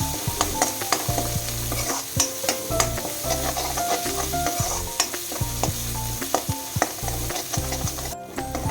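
A spice mixture of turmeric and cumin powder fries with tomato, onion, ginger and garlic, producing a constant sizzle and brisk rhythmic scraping and tapping of a spoon against the pan, close and clear with no voices.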